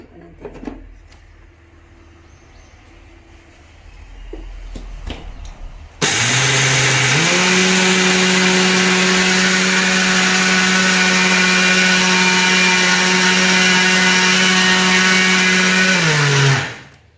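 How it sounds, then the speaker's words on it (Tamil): A kitchen mixer grinder whirs up to a loud, steady high-pitched drone as it grinds soaked rice into flour, running continuously before winding down, preceded by a few clicks and handling sounds. "நான் வீட்லேயே மிக்சிலேயே அரைச்சி சளிச்சிக்க போகிறேன்"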